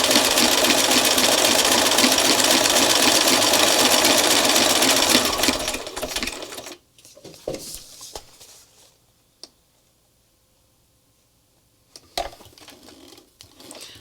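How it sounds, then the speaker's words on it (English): A sewing machine stitches across a paper art journal page made into a postcard, running loud and steady for about six seconds before stopping, followed by quiet handling noises and a few faint clicks. "it's going to stitch over the bottom of the pear here"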